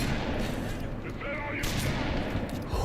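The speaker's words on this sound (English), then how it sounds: "He had a machine gun!" Dense machine gun fire in the video game Halo: Reach, a continuous loud rattling barrage lasting the whole moment with booming shots layered over it and no pause.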